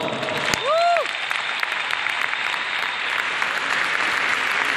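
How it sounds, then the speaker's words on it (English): A concert audience at a show in Portugal applauds a special guest singer with sustained, full clapping throughout. A brief rising whistle-like cheer rises above the crowd near the start. "If you can give her a big applause"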